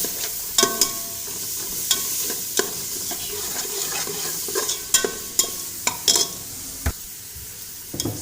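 Green chilies, onion and tomato frying in a pan for cauliflower rice, a constant sizzle broken by repeated sharp scrapes and knocks of a spatula at irregular intervals, close up with no talking.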